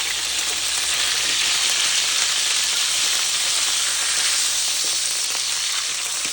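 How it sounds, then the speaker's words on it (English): A NY strip steak sizzles loudly in a hot pan, a dense, steady frying hiss that holds without a break, close up and with no voices over it. "I just flip over, flip over, flip over, flip over, your steak."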